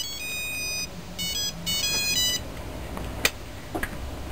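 A telephone ringtone for a call on a quiz show, several short repeated electronic ring bursts in a row, followed by a few faint clicks.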